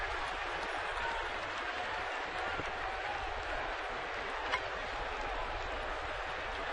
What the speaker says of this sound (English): he's getting a cheer here because the run did not score